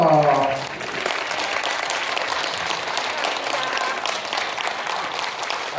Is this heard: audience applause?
yes